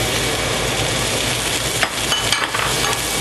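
Sliced onions and carrots frying in leftover beef fat in a pan, a dense, steady sizzle throughout with a few faint stirring knocks near the end.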